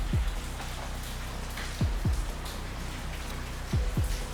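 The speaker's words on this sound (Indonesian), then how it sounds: "Mana cuaca hujan deras banget ini." Heavy rain falls in a steady, even hiss, with a few soft low thumps scattered through it.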